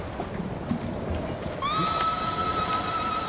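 A horse in the Ghost of Tsushima video game on Iki Island gives a single long, loud whinny in the second half, over a steady bed of outdoor game ambience.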